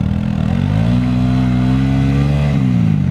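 A motorcycle engine revs steadily and loudly on deep snow at Kala Patthar near Lachen, a sustained close drone that holds its pitch for several seconds with no talk over it.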